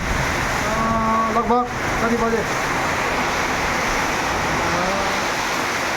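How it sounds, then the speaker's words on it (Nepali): Strong whirlwind storm wind roars steadily and loud in Nawalpur, a dense rushing blast that never lets up, while a person's voice speaks briefly over it. "यो चाहिँ हाम्रो नवलपुरमा यस्तो घुडी बतास आएको छ"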